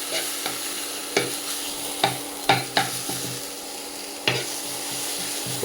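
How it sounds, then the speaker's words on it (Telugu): Dried red chillies and tomato stirred in a frying pan, a steady close sizzle of oil with several sharp scraping clacks of the spoon against the pan at irregular intervals. "ఇప్పుడు నీట్గా మొత్తం అంతా కూడా తిప్పుకుంటూ కలుపుకున్నాం."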